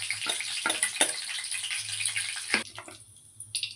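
Nigella seeds sizzle in hot mustard oil in a wok with a close, crackling frying hiss and sharp bursts of popping, then the sound quickly thins out.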